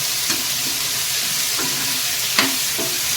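Salted ingredients fry on a slow flame in a pan while preparing moode, a steady soft sizzle broken by a few light scraping stirs of a spatula, with no talking.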